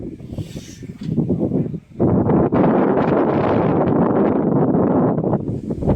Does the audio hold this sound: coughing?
no